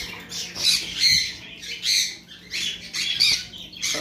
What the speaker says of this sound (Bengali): এই যে double red factor yellow sided কোনোর আমাদের কাছে রয়েছে